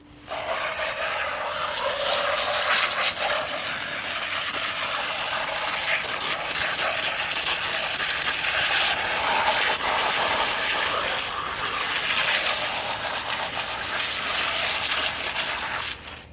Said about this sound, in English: first I'm going to get the hose and I'm just going to wash the outside of it off